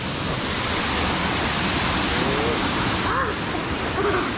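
Edralin Falls waterfall roars as a steady, dense wash of falling water, loud and close, filling the whole scene without break.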